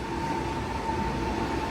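Ivolga 4.0 commuter train on the Odintsovo–Lobnya route at the Sheremetyevo airport station, a steady loud rail rumble with a faint electric whine running through it, no talk.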